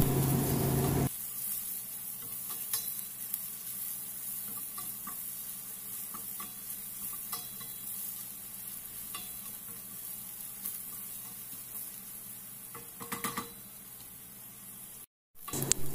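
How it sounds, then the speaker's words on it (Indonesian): Chopped onion and crushed garlic sauté in a pan with a steady, close sizzle, punctuated by occasional stirring scrapes and a brief break near the end; no one talks. "lalu masukkan bawang bombay yang sudah dipotong kecil-kecil. Kemudian masukkan juga bawang putih yang sudah ditumbuk halus, lalu ditumis sampai layu dan harum"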